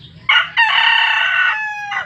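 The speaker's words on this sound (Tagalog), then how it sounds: "Chismoso din itong manok ko." A rooster crows loudly and close by, one long drawn-out call with a short lead-in and a brief tail, no talking.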